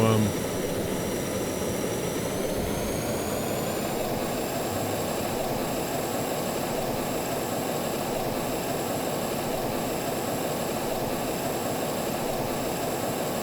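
Aircraft engine in the Stormworks: Build and Rescue game droning steadily as the throttle is reduced, a loud continuous roar with a high whine that shifts in pitch early on, with a voice talking over it.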